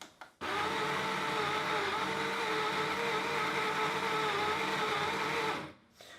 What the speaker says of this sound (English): I'm going to grind a little bit of coffee